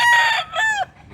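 A one-year-old rooster for sale in Consolacion, Cebu crows close by in a short, bright burst, followed by a brief cluck-like note and quiet.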